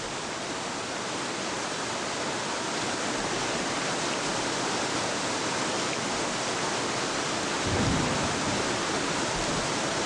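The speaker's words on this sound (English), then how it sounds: "It's gonna rain, boys and girls. It's raining, men." Heavy rain in the ocean survival game Escape the Pacific pours as a dense, constant hiss, loud and unbroken throughout, with a low rumble swelling briefly near the end.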